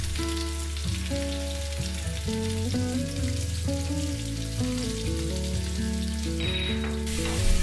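Boiled potatoes with hing and roasted, freshly ground spices frying and being stirred in a pan, a soft continuous sizzle sitting beneath louder background music throughout.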